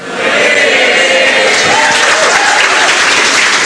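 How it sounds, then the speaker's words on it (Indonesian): A stand-up comedy crowd at an Arie Kriting show breaks into loud, sustained applause, a thick roar of clapping that swells in quickly and holds steady. "Ngapain tepuk tangan, ini ceritanya tentang celana."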